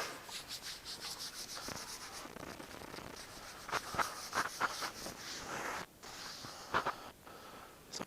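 Hands scrubbing a patient's skin during Li style Chinese push-pull bodywork massage, a steady run of soft brushing rubs with a few sharper swishes, close and fairly quiet throughout.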